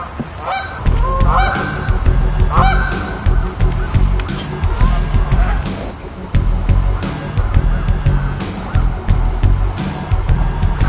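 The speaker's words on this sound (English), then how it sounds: "Birds." Geese honk outdoors in a loud, repeated chorus of overlapping calls that come in clustered bursts, close and prominent throughout, with no talking.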